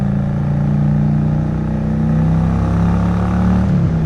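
A Honda Shadow 750 motorcycle idles loudly through its stock exhaust pipes, a steady deep rumbling drone held close with a slight dip in pitch near the end.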